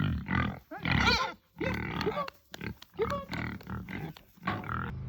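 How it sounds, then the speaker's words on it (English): Pigs on a farm grunt and snuffle close by, a series of loud, rough grunts in irregular bursts with brief gaps, no talking over them. "sort of chill out with the pigs, see how they're going."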